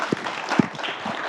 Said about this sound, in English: I would ask you all to give a big applaud for the new director.